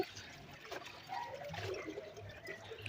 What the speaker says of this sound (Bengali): মাংসটা আমার ধোয়া হয়ে যাচ্ছে